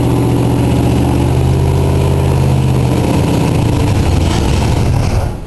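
A Cadillac engine runs steadily with its choke being closed, a rough mid-low idle droning loudly and evenly before easing off at the very end.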